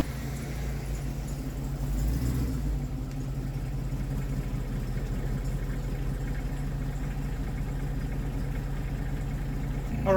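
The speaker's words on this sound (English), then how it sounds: "if you hear it humming in the background," A tractor engine hums steadily in the background near a garage, a low continuous drone that swells slightly early on and then holds level for the rest of the stretch, with no talking over it.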